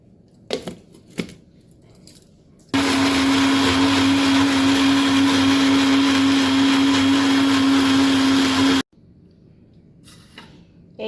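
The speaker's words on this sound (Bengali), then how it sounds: "এইটাকে আমি পেস্ট করে নেব। সামান্য একটু জল দেব, দিয়ে এটাকে পেস্ট করে নেব।" A kitchen blender grinds garlic cloves with a little water into a paste, running loud and steady for about six seconds, with a constant whirring motor drone that starts and cuts off abruptly after a few faint handling knocks.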